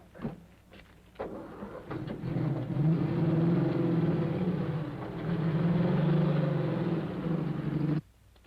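A 1930s car from a 1933 film rolls up a drive with a low steady engine rumble that swells and holds for several seconds, then cuts off abruptly.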